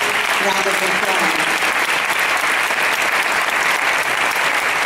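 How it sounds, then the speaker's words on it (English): A large audience at a church celebration gives a continuous, loud round of applause, dense and even from start to finish, with a voice briefly audible near the beginning. "Let's give them a big round of applause."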